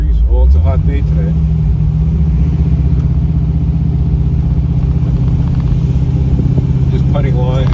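A 1981 Trans Am with a swapped LS3 416 V8 cruises at a steady 1,000 RPM, giving a loud, constant low rumble from inside the car while someone talks over it.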